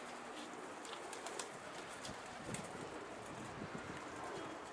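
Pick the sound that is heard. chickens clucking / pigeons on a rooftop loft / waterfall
pigeons on a rooftop loft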